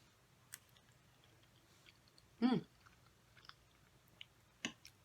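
Someone quietly chews a mouthful of broccoli with Velveeta shells and cheese, making faint, sparse wet clicks and one louder bite in a near-silent room.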